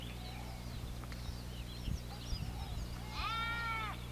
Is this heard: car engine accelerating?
no